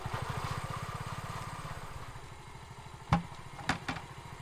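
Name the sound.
motorcycle engine idling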